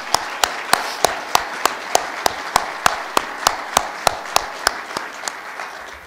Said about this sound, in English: If we could give all of them a big round of applause.